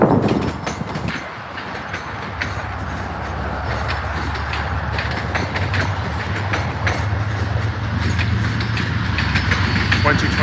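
An MBTA passenger train rolls past at Cabot Yard on a cold day, a steady loud rumble of wheels and engine with faint rhythmic rail clicks that continues for several seconds, heard close by.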